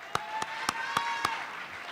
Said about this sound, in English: that's Miley Del Carmen, so a round of applause.